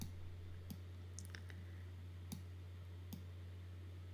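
Computer mouse clicks while dragging shapes in Adobe Photoshop CS6, three or four faint, sharp clicks spaced irregularly over a steady low electrical hum, with no talking.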